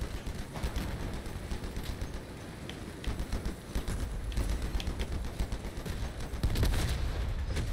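Vehicle-mounted weapons fire continuously in the car combat game Crossout, a dense, loud stream of rapid shots and impacts layered over rumbling engine noise without pause.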